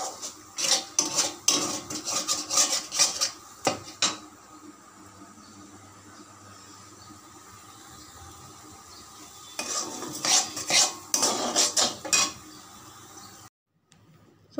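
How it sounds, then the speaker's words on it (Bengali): Spice masala being stirred and fried in a pot for ghugni, with turmeric and chili powder in it. The ladle scrapes and clatters against the pot in busy bursts, with a quieter sizzle in between and no talking. "মশলাটা প্রায় কষানো হয়ে গেছে।"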